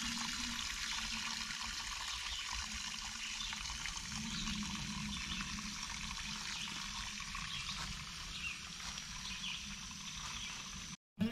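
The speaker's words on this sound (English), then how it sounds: "has these amazing springs that flow into Spring Creek" Spring water at Lucky Springs in the Oklahoma Ozarks flows into a creek with a steady, unbroken rushing and trickling wash, faint and constant throughout.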